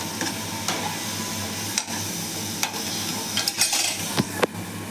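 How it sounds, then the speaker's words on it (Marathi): Masala sautéing in oil in a pan, a steady hiss of frying with intermittent scraping strokes and light utensil clicks, close and moderate in level, no voices. "मसाला चांगला परतून द्यायचा. त्याला तेल सुटेपर्यंत परतायचं चांगलं."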